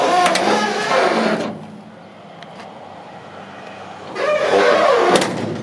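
Tailgate on a 1968 Ford F250 Ranger two-wheel-drive truck being swung shut, a close metallic clunk and rattle, a quiet pause, then a second clunk as it latches.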